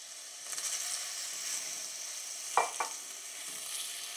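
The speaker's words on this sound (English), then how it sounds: "I feel very comfortable now to add all of this into the peppers." Shrimp added to peppers fry quietly in a pan with a soft, steady sizzle, and a couple of sharp utensil scrapes mark the stirring partway through.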